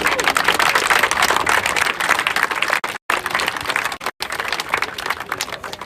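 Applause from a crowd at a Gaelic games event, a dense burst of clapping that stays loud and steady, with two very short dropouts.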